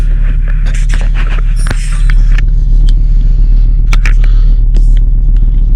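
Engine of a Volvo V70 idling just after a battery replacement, a loud steady low rumble held throughout, with small scrapes and clicks of handling on top and no speech.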